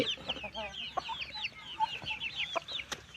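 A young Thai fighting rooster, about six months old, gives close, fairly loud rapid clucks and short chirping calls in quick, uneven bursts, with no talking over them.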